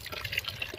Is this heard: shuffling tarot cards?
no